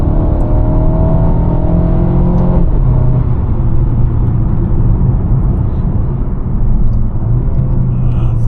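A 2021 Mercedes-Benz A250 with a 226 hp engine and 7-speed AMG Speedshift gearbox drones loudly and steadily from inside the cabin, a low engine hum building slightly with a small gear-change dip near three seconds.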